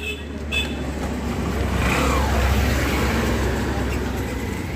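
Driving school cars gathered for a driving test, a steady traffic roar with an engine revving up and passing nearby, with a few faint higher sounds at the start.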